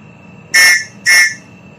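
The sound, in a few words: whistle being blown as a signal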